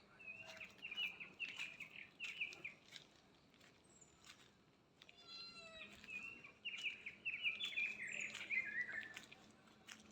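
A pet parrot at home chirps and whistles in short bursts, some brief squawky calls mixed in, fairly soft over a quiet background with no talk.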